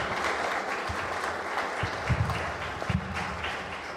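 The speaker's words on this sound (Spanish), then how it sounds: "Un fuerte aplauso, por favor." Sustained audience applause welcoming an author at a book presentation, a steady wash of many hands clapping that stays fairly even for several seconds, with a few louder thumps and murmurs mixed in.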